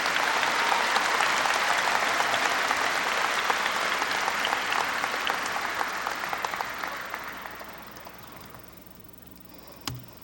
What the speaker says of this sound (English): Please give me a round of applause for Dr. Crystal Bush and our dignitaries.